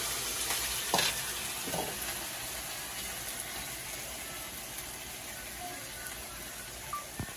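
Steady bubbling and sizzling from chicken cooking in boiling broth in a pot on the stove, continuous and moderately quiet with a few small pops.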